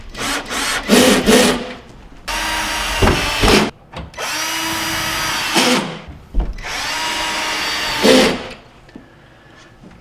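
Power drill drives screws to remount a GE over-the-range microwave, loud bursts of whirring and grinding separated by short pauses, four or so runs in close succession with no talking.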